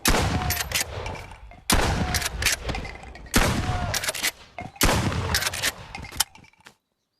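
Four loud shotgun blasts in the VR game Bonelab, each a sharp boom with a ringing tail, spaced roughly every one and a half seconds, with no talking over them.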